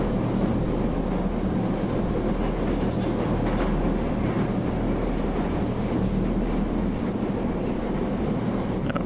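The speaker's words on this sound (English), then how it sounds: "Probably wouldn't want to since the train's still moving." A moving train rumbles steadily inside the PC video game Process, a loud continuous low drone with faint rhythmic rail clatter throughout, no voices.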